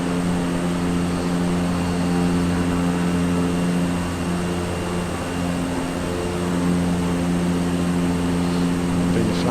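A propeller aircraft engine drones steadily at cruise power, a loud, continuous tonal hum with a broad rushing roar, heard from inside the cabin, with speech occasionally beneath it.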